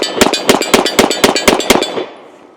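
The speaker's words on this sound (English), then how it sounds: "let's go ahead and take a few shots with it and see how she runs" A Beretta 92X pistol fired in a rapid string of about eight sharp, loud shots at an even quick rhythm, close by, each crack trailing into a short echo that fades at the end.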